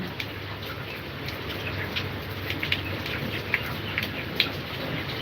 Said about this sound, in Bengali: বাইরে কিন্তু বৃষ্টি হইতেছে ভালো বৃষ্টি হইতেছে বাইরে